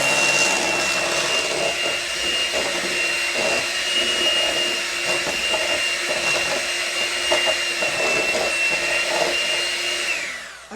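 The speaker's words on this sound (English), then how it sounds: "So you're going to start on low with your mixer to make sure it's all incorporated and there's no big obvious lumps." Electric hand mixer running steadily on low speed while mixing chocolate layer cake batter, a continuous close whir with a high motor whine lasting about ten seconds and stopping at the end.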